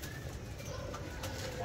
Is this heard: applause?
no